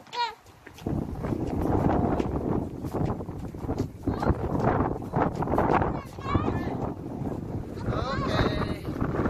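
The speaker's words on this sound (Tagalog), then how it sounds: "It's so windy." Strong wind roars and buffets outdoors in Canada, a low, gusty rumble across the microphone that runs throughout while people talk over it.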